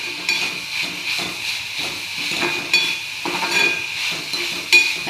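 Matki fry, spiced moth beans, being stirred in a pan for a home-style tiffin dish, with a steady soft sizzle and hiss broken by repeated scraping strokes of a spoon, close up and with no talking.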